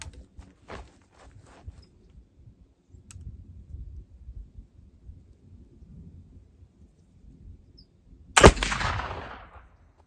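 One sharp, loud gunshot fired with original Swiss black powder cracks out near the end and leaves a short decaying boom, after quiet shuffling and faint handling noises.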